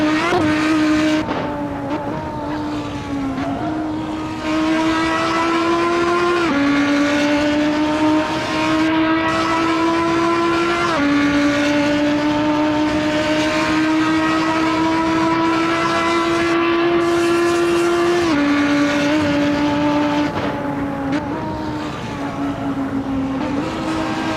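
In the racing game Assetto Corsa, a race car engine drones loudly and continuously, its pitch rising and falling through gear changes as another car runs close behind, with no talk over it.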